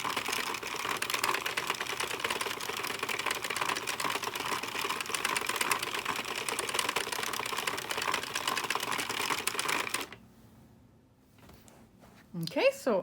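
Addi or Sentro circular knitting machine being cranked through rows of a striped baby beanie, a rapid, even clatter of plastic needles that runs for about ten seconds, then stops before a brief rustle.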